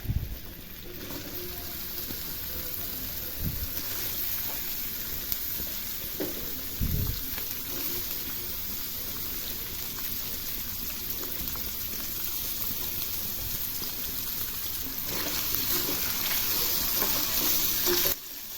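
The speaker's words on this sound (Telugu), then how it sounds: "ఇది అవ్వగానే ఇందులోకి ముందుగా మనం పచ్చి కొబ్బరి ముక్కలు వేసుకుందాం." Raw coconut pieces frying in two spoons of oil for a coconut chutney, giving a continuous close sizzle with occasional stirring knocks and scrapes of a spoon in the pan, with no voices.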